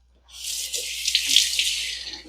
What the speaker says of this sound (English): I am going to get this just wet with just hot water from the tap